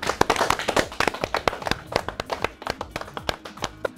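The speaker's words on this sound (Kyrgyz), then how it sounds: "Командага ийгилик кол чаап коелу." An audience claps for a team with a string of uneven, fairly close individual claps that rise and fall without any talk.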